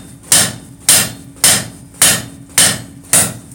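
A blacksmith hammers hot steel on the flat anvil face to draw out pick-up tongs. Six loud, evenly spaced ringing blows fall about every half second, each followed by a short decay.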